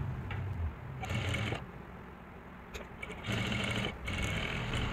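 Sewing machine stitching a lehenga blouse, with bursts of steady mechanical running that start and stop over a low motor hum, fairly close and moderately loud.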